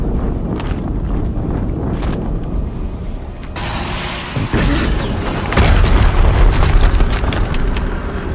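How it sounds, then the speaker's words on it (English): Explosions boom in the video game Horizon Zero Dawn, a dense, loud rumble that swells with a fresh blast about halfway through and stays heavy to the end. "Another explosion."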